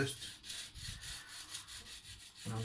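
A kitchen knife drawn along a budget sharpener, giving a steady run of close, soft rasping strokes in a quick repeating rhythm, with no talk.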